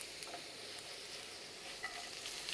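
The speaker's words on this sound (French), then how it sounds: "Je vais les refaire sauter à nouveau et je vais vérifier la pointe de cuisson." Raw potato pieces sautéing in a hot pan, a steady close hiss of sizzling oil with faint crackles and light tossing sounds throughout, no voices.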